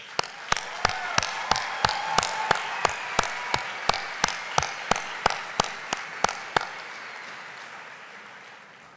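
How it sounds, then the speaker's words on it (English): Graduation ceremony crowd applauds, with a steady rhythmic clap beat repeating about three times a second over a broad wash of clapping, then the sound fades away in the last seconds. "Let's give them a round of applause to get us started"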